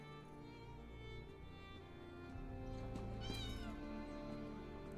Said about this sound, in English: Bye, cats. You better run.